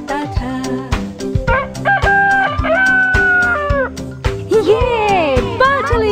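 A cartoonish rooster crows in a Hindi children's nursery rhyme about a fat, sweet rooster who sings at sunrise. Rising harmonic calls ride over a steady rhythmic music backing with a singing voice.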